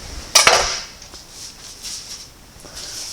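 A knife cuts through a crusty baguette africaine, a bread with special spices: one sharp crunching slice up close, followed by faint light scraping and clinks.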